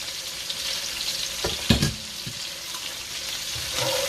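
Cabbage sautéing in a pan beside a stewed Cornish hen, a continuous close sizzle broken by several louder scrapes and clatters of a utensil stirring the leaves, no voices.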